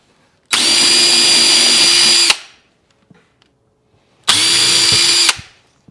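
A power drill bores through a wooden board set on blocks, giving two loud, steady whining bursts of about two seconds and one second, separated by near silence with faint clicks.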